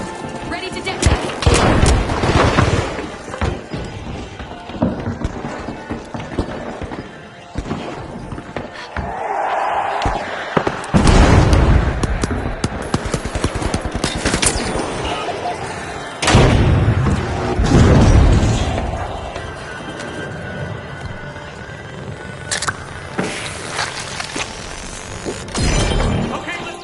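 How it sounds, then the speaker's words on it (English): Explosions detonate in The Finals, loud booms, crashes and shattering debris mixed with gunfire throughout a chaotic match, with voices talking over the action. "Ready to detonate."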